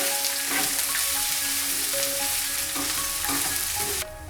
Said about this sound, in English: add sliced onions and saute them until they turn translucent